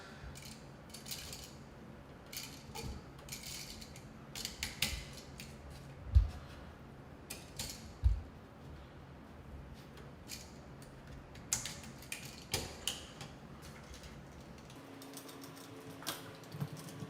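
Black wires being fastened to the copper screw terminals of an electrical receptacle during a house installation, heard as scattered small clicks and scrapes of a screwdriver at close range, with two sharper knocks partway through.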